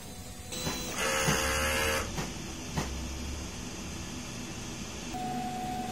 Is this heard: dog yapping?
no